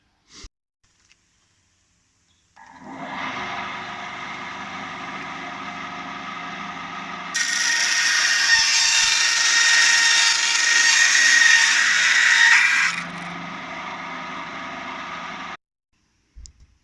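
A sawing pass through a piece being cut for a jetty fishing rod holder, a steady loud grinding run that grows harsher and louder midway before easing back and stopping, with no talking.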